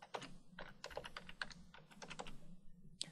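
Quick bursts of keystrokes on a computer keyboard, a close, quiet clatter of uneven taps and short pauses with no talking.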